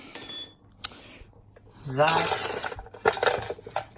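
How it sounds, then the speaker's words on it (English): A wrench works loose a half-inch front brake bolt on a Hellcat, giving metallic clinks and a burst of scraping, ratcheting clatter, close by, with a voice briefly present. "And then last, I'm gonna unbolt this."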